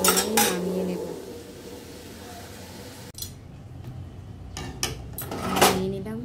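A cooking pot holding boiled taro stolons is lifted off the stove in a home kitchen, giving a few loud metallic clanks and scrapes at the start and again near the end, with quieter kitchen clatter between.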